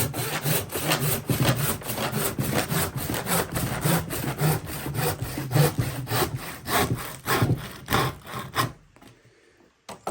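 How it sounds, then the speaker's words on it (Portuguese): A Collins handsaw cuts through a thick wooden board with about twenty rapid, rhythmic rasping strokes, close and loud. The sawing stops abruptly near the end, leaving near silence and no talking. "agora eu pego o serrote excelente, o serrote da Collins."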